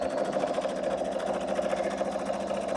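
A sewing machine runs continuously as it stitches a crazy log cabin string quilt block, giving a fast, steady mechanical chatter and whir close up with no pauses and no talk.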